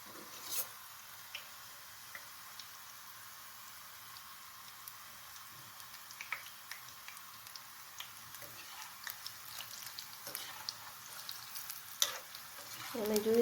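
Methi gota fritters deep-frying in oil over a low flame make a faint, continuous bubbling crackle that grows busier and louder toward the end, with no one speaking.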